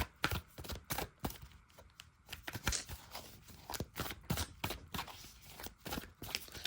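Tarot cards being shuffled by hand during a reading, soft papery riffles and taps in irregular bursts, close but quiet, with no talking.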